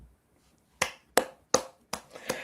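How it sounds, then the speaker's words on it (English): Five sharp hand claps close to the microphone at a live pub show, evenly spaced after a short silence, each a loud crisp burst that fades quickly. "Not supposed to make the clapping noises. It mucks up with the mic."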